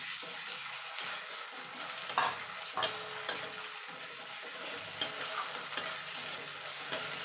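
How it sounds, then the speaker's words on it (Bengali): Ginger garlic paste sizzles steadily in a pan with fried onions while a spoon stirs and scrapes in irregular strokes, fairly quiet and close, with no talking. "আমার পেঁয়াজটা ভাজা হয়ে গেছে। এবার আমি এখানে আদা রসুনটা বেটে রেখেছিলাম সেটা দিয়ে দেবো।"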